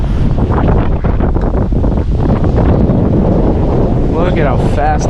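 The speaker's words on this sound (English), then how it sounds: "I'm sure this wind is like extremely loud" Strong storm wind roars into the microphone of a GoPro outdoors during a November windstorm, loud constant buffeting that never lets up, with a voice faintly audible near the end.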